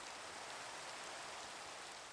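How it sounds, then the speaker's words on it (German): Steady, even hiss of rain in the Minecraft video game, a constant broadband wash with no breaks that runs alone for about two seconds, with no talking over it. "Ja, es regnet."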